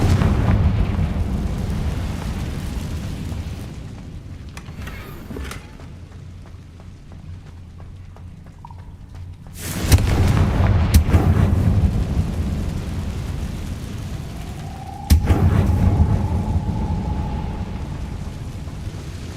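Explosive Confringo spell blasts in the video game Hogwarts Legacy, two loud booming bursts that crash in and roll off over a low rumbling game background, with a faint tonal whine trailing the second blast.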